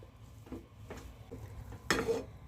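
Paneer paratha stuffing being mixed in a pan: quiet, intermittent scrapes and light clinks of a spoon, ending in a louder burst of stirring, with no voices.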